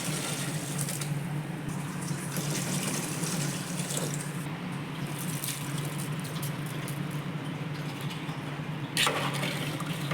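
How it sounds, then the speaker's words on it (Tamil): Water is poured into a cooking pot of prawn biryani, a steady continuous splashing rush close by for about ten seconds, with no talking. "தேவையான அளவு தண்ணி ஊற்றிடலாங்க"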